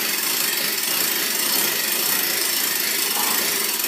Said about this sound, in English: So Matt's going to start cranking it up